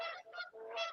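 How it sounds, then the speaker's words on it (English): Geese honk in three quick, close, nasal blasts within a second, loud and distinct with no talking. "You got geese running around."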